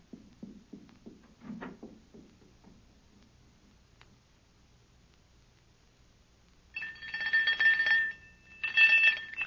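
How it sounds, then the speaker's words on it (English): A bright electric bell rings in two bursts, a long one followed by a shorter one, after several seconds of faint tapping and near silence. "Ring the doorbell. I'll hear it. Ring it loud."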